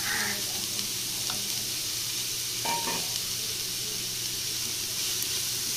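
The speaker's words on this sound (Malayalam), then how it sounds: "നമുക്കിതൊന്ന് വഴറ്റിയെടുക്കണം." Chopped onions sauté in hot coconut oil for a beef roll filling, giving a steady close sizzle and hiss with a few soft stirring scrapes partway through.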